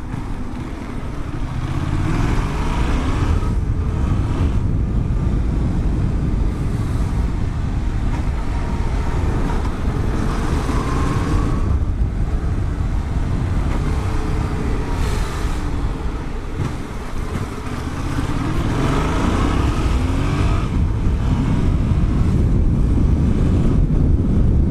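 A Yamaha MT-07 motorcycle rides through city streets, its engine a steady low rumble under constant wind buffeting, with a few swells in revs as it weaves along.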